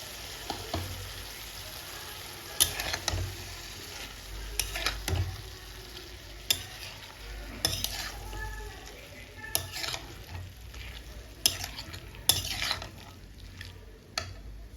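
Boiled cabbage being tipped into a pan and stir-fried for a Bengali cabbage chorchori, with a steady sizzle and repeated scraping stirs of a spatula against the pan, close up and without talk.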